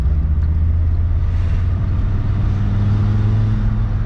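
A VR5 car engine rumbles steadily up close, a loud low throb with slight rises in pitch as it runs, no voices.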